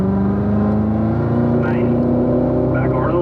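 A race car engine revs hard and builds speed coming out of a turn at a track, loud and continuous, with a person talking over it.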